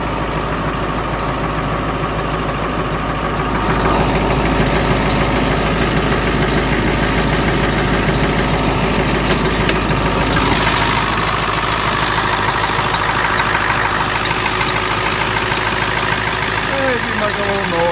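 The engine of a Ford Super Duty rollback truck idles steadily for the whole stretch with a constant rumble and a faint ticking, close up, while someone talks over it.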